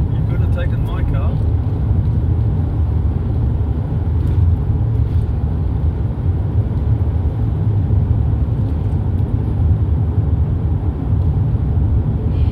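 A car on a Sunday drive gives off a steady, loud rumble of engine and road noise from inside the cabin, with voices murmuring underneath.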